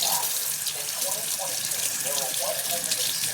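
Tap water runs steadily into a sink as potatoes are scrubbed and washed, a constant close broadband rush with a voice speaking faintly underneath.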